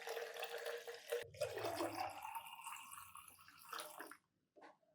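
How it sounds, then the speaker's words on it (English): Water pours steadily into a fertilizer solution to dilute it, a splashing gush that thins out and stops near the end, with a few faint trickles afterward. "Finally, add 1 liter of water to dilute the solution."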